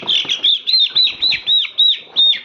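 A poultry chick being weighed on a scale peeps loudly and shrilly, about eight sharp, evenly spaced chirps in quick succession, close up with no voices.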